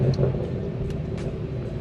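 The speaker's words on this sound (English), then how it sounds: "Valves closed, and let's put it in comfort. Takes away most of the burbles." BMW M340i fitted with a Valvetronic exhaust, valves closed in comfort mode, giving a subdued, steady low rumble of a car driving along with few burbles.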